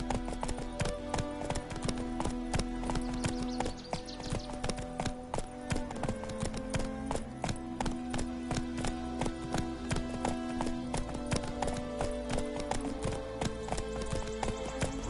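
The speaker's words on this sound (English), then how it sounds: "Run, Roach." Roach, a horse in the video game Witcher 3, gallops with a steady, rapid clip-clop of hooves that runs throughout, mixed with sustained tonal background sound.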